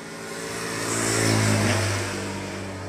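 A Yamaha Jupiter Z motorcycle, revived after sitting unused for years with a new spark plug fitted, runs its engine in a steady mid-pitched drone that swells briefly as if revved, then settles, with no talking.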